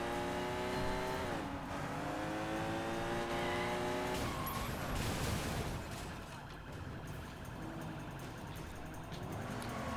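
Video-game street race in Sleeping Dogs: racing car engines rise and fall close by, then give way to a broad, gritty wash of tyres sliding and skidding that runs through the rest of the stretch. No voices.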